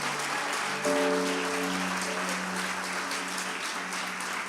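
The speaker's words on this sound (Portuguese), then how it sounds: "Se for aplaudir, aplaude glorificando a Deus." A church congregation applauds during a Sunday celebration service, a steady broadband wash of clapping with sustained musical tones from instruments ringing through it.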